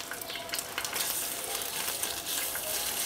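Beef tail fat melting in a hot pan, a constant close crackling sizzle with faint scraping, steady and moderately loud, with no voices.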